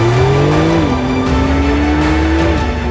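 Porsche sports car accelerates hard down a track at a driving experience event, a loud, close engine climbing in pitch through gear changes, with brief drops between shifts and no talk.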